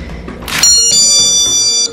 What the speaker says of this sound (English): There's the child safety alarm on the door.